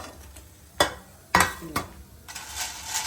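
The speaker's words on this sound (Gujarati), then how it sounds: "મમ્મીના હાથની વેફર તળાઈને આપણે રેડી થઈ રહી છે" Homemade rice wafers fry in hot oil, a soft steady sizzle broken by a few sharp stirring clacks, with the bubbling growing brighter and denser toward the end.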